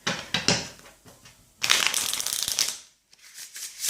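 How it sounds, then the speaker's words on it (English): Tarot and oracle cards of standard playing-card size are shuffled close by in several bursts of crisp riffling and soft shuffling rustles, with short pauses between, alone without talk. "So I will shuffle the cards now"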